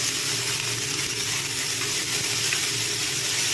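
Ivy gourd and potatoes frying in oil with cumin, giving a steady, continuous sizzle that stays level throughout with no talk.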